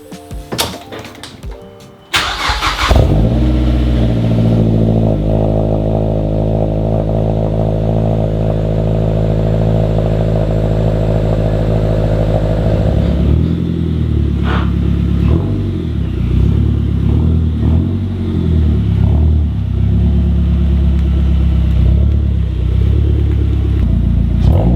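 A Mazdaspeed 3 with a 3-inch downpipe cranks and fires into a loud, steady idle, then revs up sharply in several raspy blips close by.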